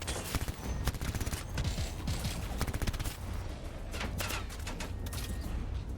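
Rapid gunfire from guns in the video game Anthem, with dense bursts of shots crackling over a loud, busy battle soundscape that runs continuously with no pauses.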